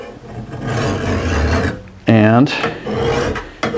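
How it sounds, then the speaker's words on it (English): File rasping across a wheel hoe blade with a 12-inch mill bastard file, rough scraping strokes running steadily, with a short ringing metallic tone partway through and a brief word spoken. "you sharpen it. I recommend a 12-inch mill bastard file"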